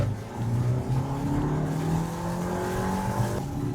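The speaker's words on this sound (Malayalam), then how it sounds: "നമുക്ക് ഇതിന്റെ എഞ്ചിൻ പവർ നോക്കിയാലോ?" A 2025 Volkswagen Tiguan R-Line SUV engine accelerates on a rainy road with a steady, rising drone that holds loud and close for about four seconds, with no talking.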